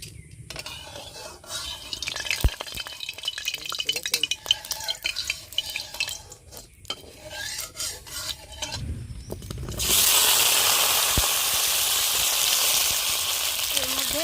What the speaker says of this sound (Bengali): চিংড়ি রান্না করব তাই প্রথমে পটলগুলো ভেজে নিচ্ছি